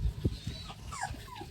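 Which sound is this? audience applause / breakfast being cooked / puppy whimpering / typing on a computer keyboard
puppy whimpering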